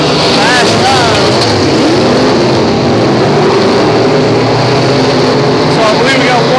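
Race cars on a raceway speedway roar loud and close as the field restarts single file after a caution, several engines overlapping and rising and falling in pitch, with someone talking over them.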